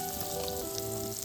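Paneer sautéing in a pan, a soft, steady sizzle with faint crackling, heard close and fairly quiet in a brief moment without voices.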